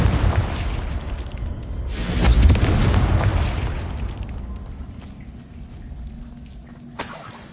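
Confringo fire spell explodes in Hogwarts Legacy with a heavy booming blast that swells and rumbles for several seconds before fading, followed by a sharp smaller crack near the end.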